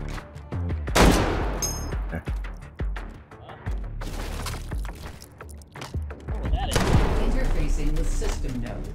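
Rapid gunfire bursts in the H3VR virtual-reality shooter, with sharp repeated shots clustering around a few moments and a steady bed of game noise and clatter between them.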